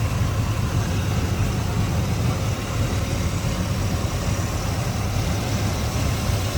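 Steady idle of the 350 V8 in a 1987 Chevrolet Monte Carlo SS, a smooth, even low rumble heard up close at constant volume, with no speech.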